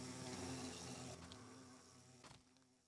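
Bees buzz steadily in Minecraft, a continuous insect drone that holds close and fairly loud before easing slightly, with no talk over it.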